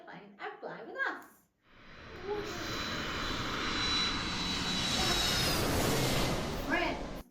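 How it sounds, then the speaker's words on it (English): An aeroplane in flight roars steadily and loudly, a broad sustained engine rush that builds and holds for several seconds, with a voice speaking briefly before and at the very end. "aeroplanes fly. Whoosh!"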